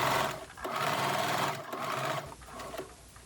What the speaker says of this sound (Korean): 주머니 입구 네 군데를 모두 박음질을 해줍니다.